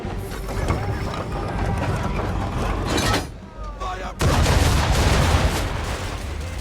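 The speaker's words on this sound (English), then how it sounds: "Now, aim all guns at her bow and do as much damage as possible." Ship cannons firing at an enemy ship during a naval battle in Assassin's Creed III, a dense, loud barrage of booming blasts with a brief lull before the guns roar again, under game voices.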